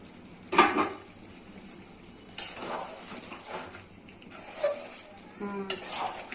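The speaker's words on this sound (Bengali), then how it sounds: "নেড়ে চেড়ে কিছুক্ষণ দেখে দিব সিদ্ধ হওয়ার জন্য" Chicken curry with cabbage being stirred in a pan, with a few separate scraping, sizzling bursts of the spoon working through the food, set apart by quieter gaps of low simmering.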